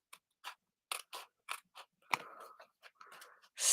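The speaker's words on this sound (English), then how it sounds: "we're going to trim off this side." Scissors snip along the edge of a handmade card, a quick series of short crisp cuts spaced in an uneven rhythm, close and fairly quiet, with a brief crinkle of paper between snips.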